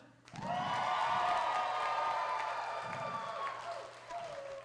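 A live sideshow audience at a sword-swallowing act claps and cheers in a sustained burst, with voices rising over the dense applause before it slowly thins out.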